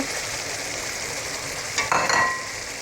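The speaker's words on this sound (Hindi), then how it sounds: "ये देखिए अच्छी तरह हमारा कीमे की बुनाई हो रही है, ऑयल ऊपर आना शुरू हो गया।" Minced meat keema sizzles steadily in hot oil in a pan for keema noodles, a close, continuous frying hiss with brief stirring scrapes near the end and no talking.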